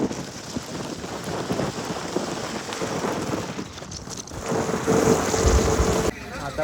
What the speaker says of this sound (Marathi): पाऊस पण खूप जोरात पडतो.